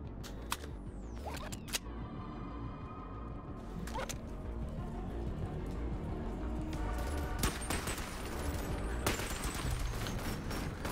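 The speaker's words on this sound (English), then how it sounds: "Oh my god, the turrets!" Turrets firing in the VR game Bonelab, sharp clicky rapid shots in scattered bursts over a busy background, moderately loud, with a few isolated cracks early on.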